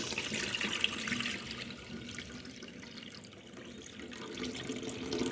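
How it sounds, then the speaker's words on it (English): Rice being washed by hand in water in a sink, with a steady running-tap wash and swishing, splashing liquid close by throughout, no talking. "So this is how I wash my rice."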